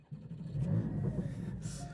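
A Porsche 718 GT4 engine catches and settles into a deep, rumbling idle with a slight rise in revs, heard up close without talk.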